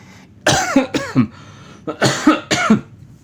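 A person coughs several times in two bursts, harsh and close, with short pauses between the hacking fits.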